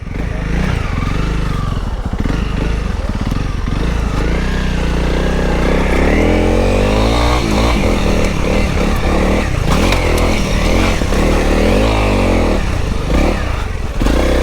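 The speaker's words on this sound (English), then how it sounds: "300L, is it? 3 or 350L? I don't know. Honda trail bike." A Honda CRF300L trail motorcycle engine runs loudly up close, revving and rising in pitch repeatedly, with clattering mechanical noise and no talking.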